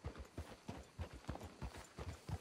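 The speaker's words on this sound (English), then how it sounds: "Can't you control that damn horse?" Horse hooves clip-clop at a steady trot in Red Dead Redemption 2, a regular rhythm of paired thuds about four beats per second, close but fairly quiet, with no talk over it.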